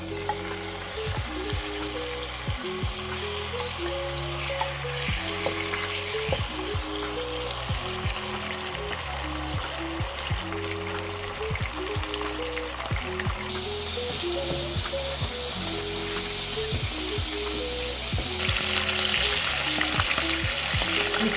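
Lamb liver fries in oil in a pan, a steady, dense sizzle with crackling and spattering that runs continuously at close range, with occasional stirring scrapes and no voices.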